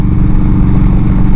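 A 1996 Harley-Davidson Evo Low Rider with an 80 cubic inch engine runs close by, a loud steady throbbing rumble with an even pulsing beat and no talk.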